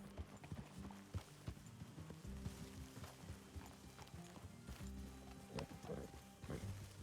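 Hooves clip-clop steadily at a walking pace in Red Dead Redemption 2, close by, with a low rumbling background and occasional faint horse snorts.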